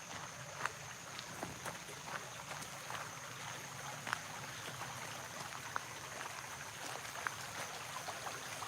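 A stream flows steadily outdoors, a soft continuous rush of water with faint scattered trickles and drips, fairly distant and quiet.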